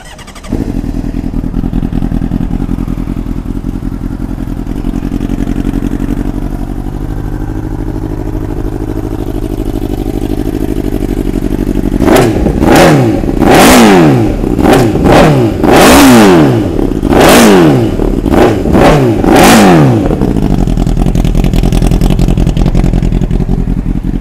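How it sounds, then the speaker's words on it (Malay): A 2013 Honda CBR600RR motorcycle with an Arrow full-system exhaust idles loudly up close, then is revved in a series of sharp, rapid throttle blips that rise and fall before settling back to a steady idle. "mari kita dengar tengok CBR 600RR ni full system arrow adjust bunyi dia macam mana"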